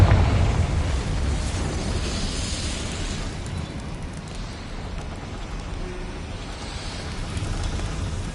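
A Confringo spell explosion in the Hogwarts Legacy video game opens with a heavy boom that decays into a long, rumbling, windy roar, fading gradually without any other distinct sounds.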